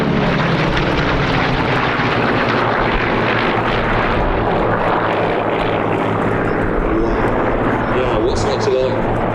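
A Corsair propeller warplane drones loudly and steadily overhead at Sywell Airshow, its engine roar filling the air throughout while people talk close by.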